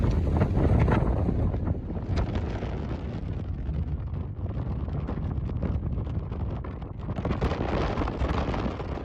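Warm wind blows through a valley near the Fagradalsfjall lava flow, a continuous rough, gusty roar buffeting the microphone, with no voices.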